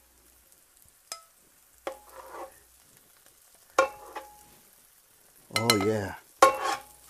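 Caramelized onions and mushrooms in a pan over low heat, with several separate scraping stirs and clatters against quiet gaps, and a brief spoken remark near the end.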